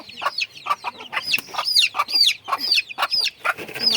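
A rooster and hen cluck close by in a rapid, continuous run of sharp, loud calls, with no other sound competing.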